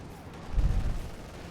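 In Company of Heroes 2, an anti-tank gun shell hits an IS-2 tank's armor and bounces off, a single deep booming impact that swells and rolls away, loud and low under quiet game ambience.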